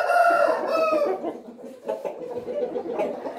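A rooster crows loudly and close by, one long rising-and-falling call filling the first second, followed by softer clucking and chortling from fowl.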